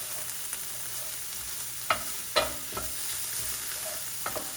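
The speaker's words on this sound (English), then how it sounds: "I'm gonna go ahead and add my garlic. Saute that a little bit." Garlic sautés in a pan as a low steady sizzle, interrupted by several sharp scraping stirs of a spoon, near and quiet, with no talk over it.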